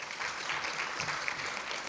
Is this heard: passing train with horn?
no